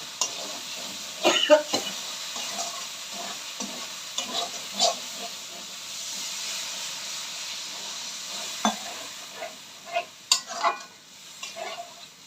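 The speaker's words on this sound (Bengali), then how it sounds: "ঝোলটা খুব সুন্দর ফুটে উঠেছে।" Masala gravy with added water bubbling in a pan for grass carp fish curry, a steady sizzle and hiss broken by scattered louder pops and stirring clinks, heard alone without talk.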